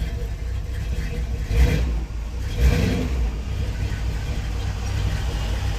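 A 1970 Dodge D100 engine with a freshly swapped cam and DLC lifters runs loud and close, rising in two short revs over a steady rumbling idle.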